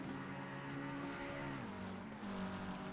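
GT3 race cars in a racing video game roar steadily with dense engine harmonics, one car's pitch dropping on a gear change, continuous and close with no talk over it.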